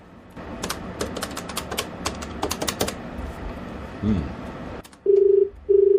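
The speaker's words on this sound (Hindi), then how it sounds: "फोन मिलाओ इनको, मिलाओ जी।" Rapid clicking of phone keypad buttons in quick bursts, followed by two loud, steady ringback tones; a brief voice murmurs between them.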